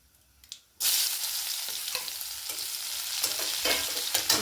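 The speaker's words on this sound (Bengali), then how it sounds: "এর পেঁয়াজ কুচিটা দিয়ে দিচ্ছি" Chopped onion dropped into hot mustard oil with black cumin, bursting into a loud, steady close sizzle of frying, with occasional stirring scrapes and no talk.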